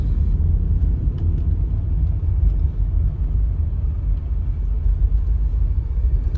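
A car crawls through a Jakarta traffic jam after a gearbox service, heard from inside as a steady low engine and road rumble with no speech.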